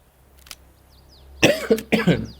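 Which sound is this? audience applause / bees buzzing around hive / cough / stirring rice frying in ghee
cough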